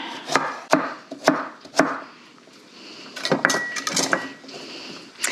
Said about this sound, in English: Chop these into some nice big bites